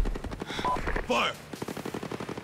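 Rapid machine gun fire in the video game Ghost Recon Breakpoint rattles in quick bursts, mixed with other game effects and a voice in the background.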